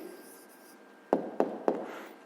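A pen writes an answer on paper in three short, distinct strokes close by, soft against a quiet room hum.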